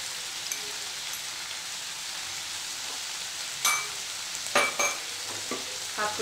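Crushed garlic and salt go into a hot oily pan for capsicum pallya and are stirred in. A steady, loud frying sizzle carries through, with a few brief clanks of the stirring utensil near the end.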